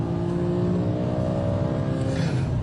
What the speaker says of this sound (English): the whole engine tone just comes alive